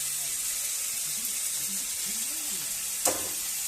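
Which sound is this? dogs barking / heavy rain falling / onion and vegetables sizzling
onion and vegetables sizzling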